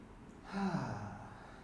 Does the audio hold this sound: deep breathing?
yes